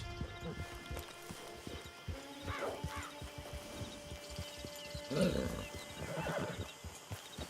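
A horse in Red Dead Redemption 2 Online neighs a few times over steady clip-clop of hooves and a low hum, with short whinnies rising and falling.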